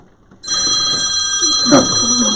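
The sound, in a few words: telephone ringing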